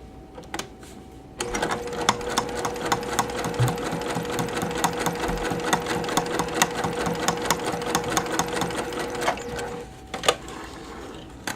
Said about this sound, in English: once I'm done sewing